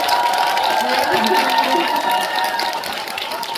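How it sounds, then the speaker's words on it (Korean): A packed cinema audience at a film screening event claps and cheers, loud and continuous, while a speaker's voice carries over the crowd. "큰 박수"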